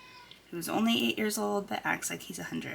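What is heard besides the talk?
cat meowing in the background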